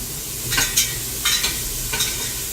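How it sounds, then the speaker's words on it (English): Steady frying sizzle of celery in extra virgin olive oil for chili, with a few sharp crackling bursts and spoon stirring scrapes, close up, no talking. "you probably can hear the celery sizzling"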